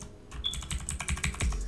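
Fingers tap rapidly on a computer keyboard during Photoshop work, a close, quiet run of irregular clicking keystrokes with a slightly heavier key press near the end.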